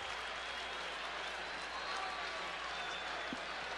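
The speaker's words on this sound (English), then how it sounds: "A capacity crowd here at Busch Stadium on a cool, crisp evening. And they're rooting for their Redbirds." A capacity crowd at Busch Stadium roars during Game 7 of the 1982 World Series between the Brewers and Cardinals, a steady distant wash of cheering and applause on a cool evening.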